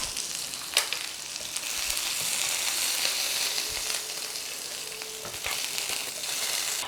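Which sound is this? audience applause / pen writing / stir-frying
stir-frying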